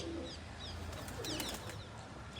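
Low pigeon cooing in the background, joined by scattered high chirps from other birds, moderately distant and steady.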